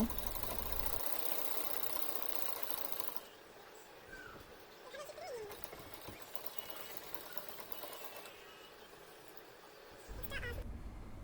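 A sewing machine stitches the side pocket of a kurti in loud, steady mechanical whirring bursts, with a quieter pause between runs and a faint squeak in the gap.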